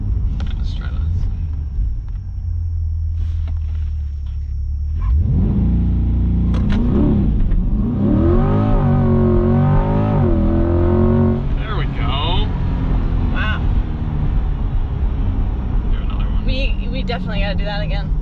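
A 2021 Chevrolet Corvette Z51 on a launch control start: a low idle rumble, then a sudden loud surge of acceleration with rising revs and quick gear shifts, tapering off to a cruising drone, with people talking inside the car.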